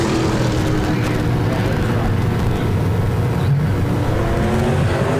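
Stock cars race at Park Jefferson Speedway, their engines making a loud, continuous roar that rises and falls as they circle the track, with an announcer talking over the noise.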